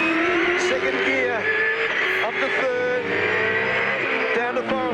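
A race car drives a lap of the Mount Panorama circuit, its engine loud and steady with pitch rising and falling through braking and gear shifts, while someone talks over it.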